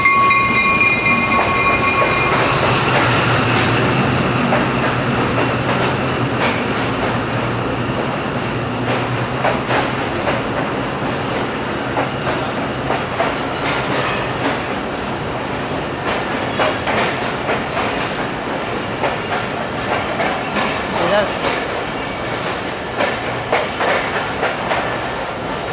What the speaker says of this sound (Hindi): 40 डाउन जाफर एक्सप्रेस आ रही है।